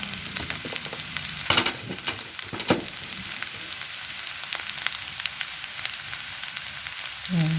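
Smoked fish (tinapa) seasoned with pepper is stirred in a pan, giving a soft, steady frying sizzle with a few louder scraping clatters near the start and again at the very end.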